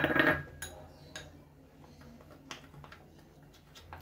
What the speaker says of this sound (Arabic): كنخلط مزيان